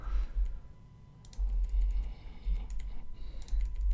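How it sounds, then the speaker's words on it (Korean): Computer keyboard arrow keys pressed during Photoshop work give a few soft, scattered clicks close by over a low steady hum. "이렇게 방향키로, 키보드의 방향키로 움직여 주셔도 돼요"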